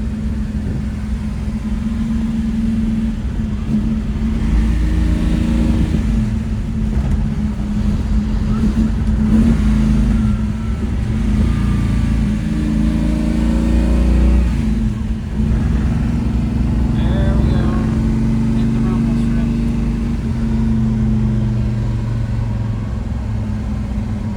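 A 1969 Chevrolet Chevelle SS 396 with a four-speed manual pulls hard through the gears, its V8 rumbling loudly and rising in pitch, easing off at each shift before climbing again, heard from inside the car.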